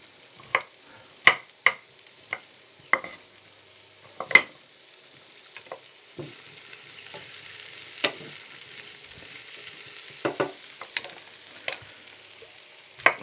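Potatoes and cauliflower florets in a pan, heard as a quiet, sparse scene with a few sharp clicks and taps from a utensil, followed by a faint, steady low sizzle.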